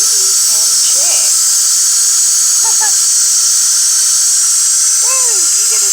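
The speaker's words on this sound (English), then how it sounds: "Woo, you get a steam bath." A steamer used for nail care gives off a loud, steady high hiss that fills the whole clip, while a voice speaks briefly over it in short bursts.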